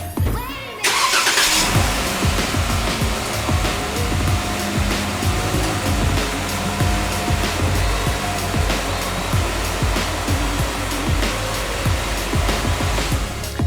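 A Jeep engine cranks and catches about a second in, then settles into a loud, steady idle that runs on, a faint voice occasionally underneath.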